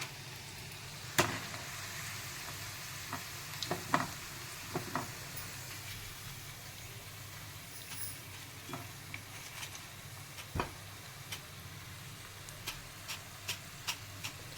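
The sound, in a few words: cauliflower (gobi 65) frying in oil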